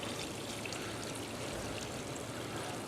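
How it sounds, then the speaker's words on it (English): Water pours steadily onto freshly transplanted tomato plants, a continuous even splash and trickle at close range with no talking over it. "All right, let's give these some water."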